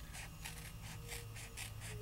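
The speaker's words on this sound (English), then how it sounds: "And I'm just cutting all the way around." Rhythmic snipping of scissors through paper, a quick series of soft crisp cuts at a steady pace with a faint hum underneath.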